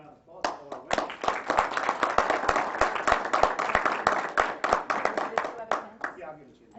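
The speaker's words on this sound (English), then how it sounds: "And we got one more round of applause for all our winners." A round of applause for award winners at a borough council meeting: a small group clapping close by in sharp, rapid, uneven claps that swell and then thin out toward the end.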